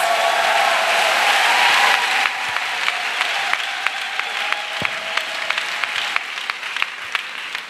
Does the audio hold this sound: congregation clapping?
yes